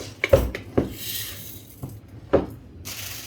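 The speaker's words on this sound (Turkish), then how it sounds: "Şöyle içine içine 2 3 kaşık mısırımızı atıyoruz." A few dry corn kernels are spooned into a pot for popcorn, landing as several short, close clattering knocks spaced irregularly, with quiet pauses in between.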